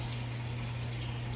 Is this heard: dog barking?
no